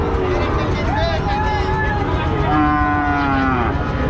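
Two drawn-out cow moos, one after another, over loud crowd noise and talking nearby at a Joypurhat cattle market.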